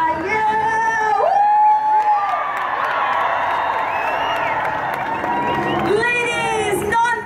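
Large Women's March crowd before the start, loud sustained cheering, whoops and clapping from near and far, with shouted voices rising again toward the end.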